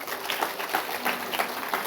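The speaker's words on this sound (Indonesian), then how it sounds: "tepuk tangan yang paling meriah" An audience at a worship gathering claps and cheers steadily, a dense wash of clapping that stays even and fairly loud throughout.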